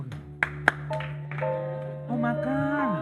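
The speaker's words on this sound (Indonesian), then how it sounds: "Kalau saya mau makan, saya harus tepuk 2 kali" Two sharp hand claps ring out close together over a steady background hum, followed by a tonal electronic jingle in a television comedy studio.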